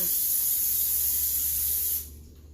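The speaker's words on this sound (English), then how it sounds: "I'm spraying the sheet with some" A close, loud hiss of olive oil spray onto a baking sheet lasting about two seconds, then it cuts off abruptly, leaving quiet room noise.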